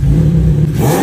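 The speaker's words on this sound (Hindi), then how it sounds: "सुपर बाइक का वेल्वोट्रॉनिक एग्जॉस्ट" A superbike fitted with a Velvotronic exhaust runs at its normal setting, with a loud, close engine drone that holds steady, then rises briefly as it revs.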